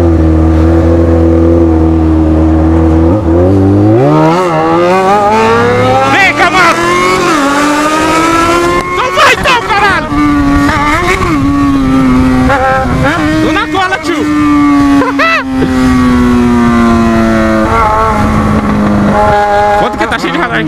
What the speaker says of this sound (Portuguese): vou chamar o Camaro pra acelerar